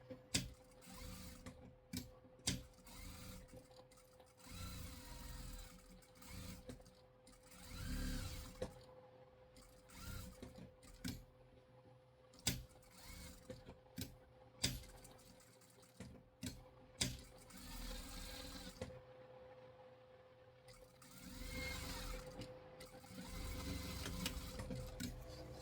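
A sewing machine stitches around a cloth sheep toy in repeated short bursts of whirring with pauses and clicks between them, fairly close and alone.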